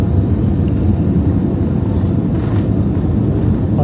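Airliner landing approach near Bali, a steady loud cabin roar of jet engines and airflow filling the whole stretch without a break, no talk over it.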